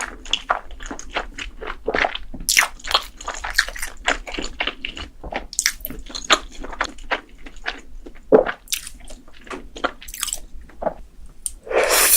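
Close, crisp mukbang eating sounds of corn cheese being bitten and chewed, a steady run of sharp crunchy and squishy bites with no talking, loud and near the microphone.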